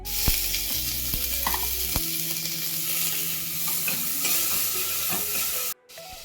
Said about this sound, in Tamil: வெங்காயம், கருவேப்பிலை, இடித்து வச்சுருக்க பூண்டு, ஒரு மிளகாய் இதெல்லாம் போட்டு வதக்கிக்கலாம்.